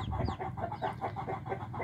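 Hens waiting to lay eggs give a steady run of soft, rhythmic clucks, close and moderately loud, repeating several times a second with no other sounds around them.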